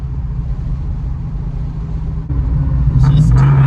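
A red 1971 Dodge Challenger with a swapped 392 engine rumbles steadily from inside the car, a low drone that swells louder as it shifts into sixth gear, with talk over the engine.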